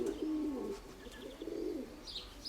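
Young pigeons coo softly in low, rolling phrases, with a few faint higher chirps near the end and no talking.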